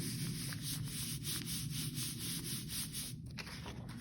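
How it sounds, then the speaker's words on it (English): Paper rubbed over fabric on a Gelli printing plate: a steady, close scratchy rubbing with a quick back-and-forth rhythm that continues throughout, with a brief hitch near the end. "I said don't rub, and then I rubbed it"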